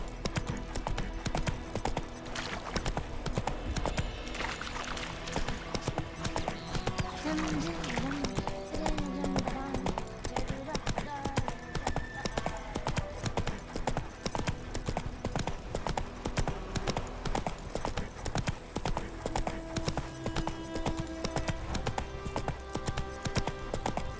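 Roach, Geralt's horse in The Witcher 3: Wild Hunt, gallops with a steady, rapid clip-clop of hooves running continuously under game music and ambience, with a brief whinny and voices talking over it.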